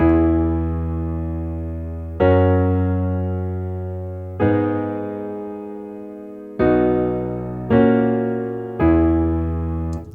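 A sustained synth chord progression with a 7th chord repeats as a loop, each chord struck and left ringing, about six changes over ten seconds with no voices.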